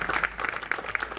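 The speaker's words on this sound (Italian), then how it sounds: "Un altro bel applauso" Audience applause at a small-town award ceremony, a brief burst of many hands clapping at moderate volume, fairly even and close, with no voices over it.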